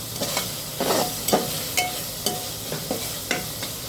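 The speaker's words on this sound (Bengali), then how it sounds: "আমি মাছটা সুন্দর করে কষিয়ে নিচ্ছি।" Small fish sauté in hot oil while a spatula stirs them in quick, regular strokes, each scrape standing out over a continuous close sizzle.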